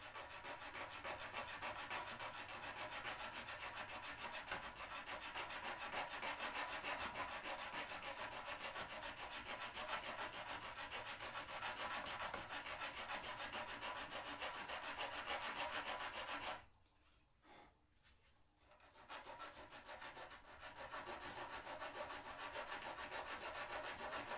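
A continuous coarse rasping, like a saw cutting through wood, runs steadily and loudly with a short pause before resuming, as a grass-cutting machine cuts wood.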